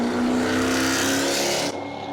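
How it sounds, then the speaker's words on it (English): Race cars roar off the line at the green flag at New Smyrna, a Volvo launching hard beside a Mustang; a loud, sustained engine howl with rising pitch fills the clip, dropping slightly near the end. "Man, what a start by the Volvo."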